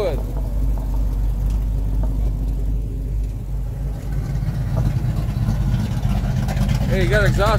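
A car engine with an exhaust leak runs steadily at a car show roll-in, a loud continuous low rumble filling the whole stretch while people talk nearby.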